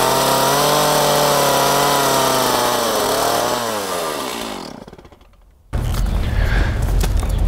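A chainsaw cuts a felled tree branch into firewood pieces. The loud engine roars steadily, then its pitch sags and fades as the cut finishes. It drops nearly silent before another burst of noise kicks in.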